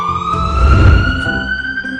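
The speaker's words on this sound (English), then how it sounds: "That was a loud siren." A loud emergency siren wails outside, a steady rising electronic tone with a deep rumble of traffic beneath it, continuous and close with no voices.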